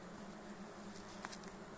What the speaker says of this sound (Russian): Пчелки побежали в улей.